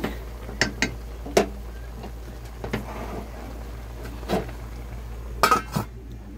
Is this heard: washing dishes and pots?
yes